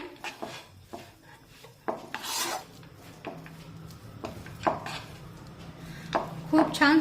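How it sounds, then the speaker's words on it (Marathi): A spoon rasps and scrapes through a thick ripe-banana barfi mixture as cardamom powder and fried dry fruits are worked in. The strokes are close and repeated in an uneven rhythm, with occasional clinks against the pan. "चमचाभर वेलदडे पूड मिक्स करून घेऊया"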